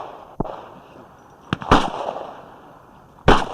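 Three sharp gunshots ring out at an outdoor firing range, spaced irregularly, the first fairly small and the last two loud and close, with a faint background hum between them.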